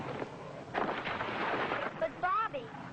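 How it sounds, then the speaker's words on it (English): Rumbling bombardment explosions from a 1954 space adventure TV serial boom and burst in a dense, muffled barrage, with a voice speaking over them. "Cleolanta, thinking only about her own people, bombarded Visita, hoping to spin it out of the way of Ophiuchus."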